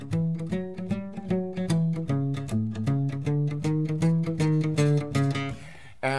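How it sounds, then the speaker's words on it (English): A basic blues run on an instrument, played as a quick, steady string of picked notes rising and falling in a bouncy rhythm, close and clear with no talking. "here's a basic blues run."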